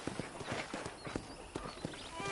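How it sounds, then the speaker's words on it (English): A horse's hooves clip-clopping in the video game Red Dead, a quiet, regular rhythm of hoof strikes on the ground repeating about every third of a second. "let's see if you can still ride a horse."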